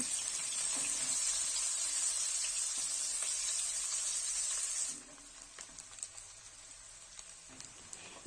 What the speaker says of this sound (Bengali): এরপর পেঁয়াজটা একটু লাল লাল করে ভেজে নিতে হবে